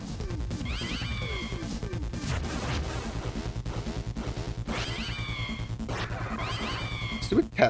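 Cat enemies meow repeatedly in Deltarune, a video game, in a run against Spamton, the rising calls layered over constant game music and loud thuds.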